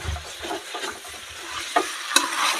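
Jackfruit being stir-fried in a village kitchen, a steady close sizzle with a few scraping stirs and sharp clicks of the spatula against the pan.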